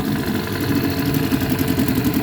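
A 1958 Wizard Powermatic 5-1/2 hp small engine built by Oliver Farm Machinery idles steadily and fairly loud, a continuous even putter with a slightly uneven beat and no talking over it.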